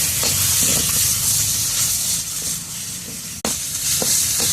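Taro leaf paste fries in a pan with a loud, dense hiss and sizzle, broken by a few soft stirring scrapes and one brief sharp click partway through.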